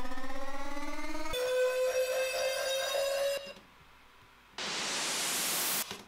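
In an electronic music track build-up, a synth riser climbs in pitch before locking onto a held buzzing tone, then drops away. A bright white-noise swell rises sharply and holds loud to the end.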